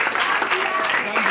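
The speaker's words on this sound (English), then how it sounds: "Yes, clap for that Zimbabwe." A church congregation at a Sunday service gives a short burst of clapping that fills the brief moment, with a voice speaking over it.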